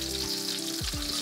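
Ahi tuna katsu fries in a pan with a loud, close, continuous sizzle that carries on without a break and with no voices.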